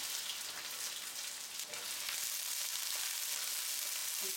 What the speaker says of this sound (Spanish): El resto de la cebolla lo voy a poner a sofreír para empezar a freír la salsita.